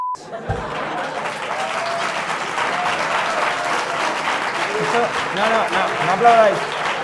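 Theatre audience breaks into sustained applause, a dense wash of clapping that starts abruptly and swells toward the end, with a few laughs and a voice underneath.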